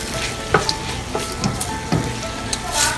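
Shrimp and peppers sizzle and crackle in a hot pan while being stirred, with a steady frying hiss and a few clinks and scrapes from the utensil, close and moderately loud.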